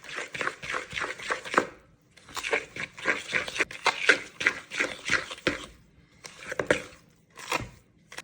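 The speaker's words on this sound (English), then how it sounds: "using a fork, we're going to beat this all together" A fork beats batter in a bowl for chocolate bacon peanut butter bars, giving quick rhythmic scraping and clacking strokes in several bursts with short pauses between them.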